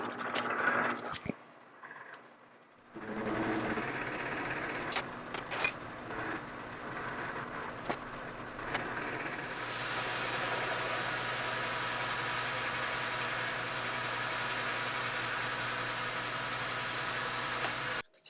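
Metal lathe single-point threading a 3/8 fine thread on a long unsupported workpiece with no tailstock, a steady mechanical whir and cutting hum after a few clicks and knocks, running evenly and close.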